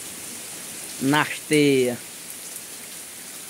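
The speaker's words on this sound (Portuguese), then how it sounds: "escutei só a pancada da chuva aí no..." Heavy rain pours steadily in the Brazilian sertão, a constant dense hiss of drops on surfaces from start to finish, while someone speaks briefly over it.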